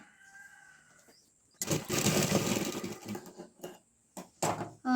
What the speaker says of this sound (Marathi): अशा अर्धा इंचाची टीप मारायची